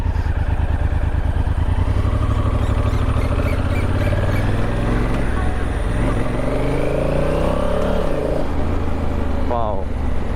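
Honda Africa Twin motorcycle engine in sport mode, a loud close-up throb that rises and falls as the rider revs and accelerates, with clattering mechanical noise and rising pitch sweeps.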